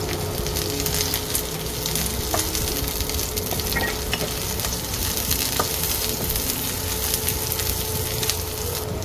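Ginger frying in a pan for fish sinigang, giving a dense, continuous crackling sizzle with occasional faint utensil ticks, steady and close.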